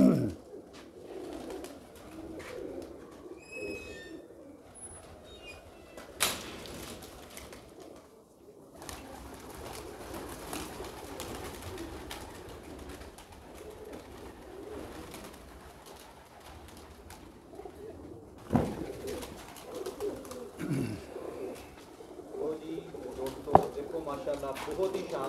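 Pigeons at a pigeon-flying show coo softly and intermittently, under steady murmuring talk and outdoor background noise, with a few sharper knocks and thumps nearby.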